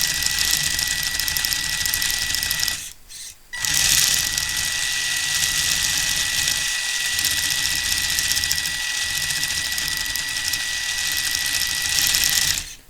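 A Tamiya RC car's electric motor whirs under throttle while its steering servo buzzes, giving a steady high mechanical whine close by with a brief cutout and small bursts of change.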